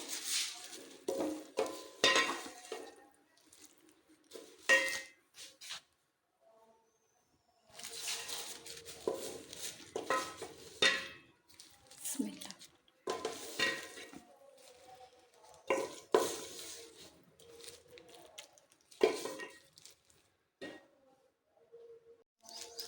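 Cooked cluster beans (guar phali) being dished out of a pan, with irregular scraping, clinks of a spoon against metal and soft plops in close bursts separated by short quiet gaps, no talking.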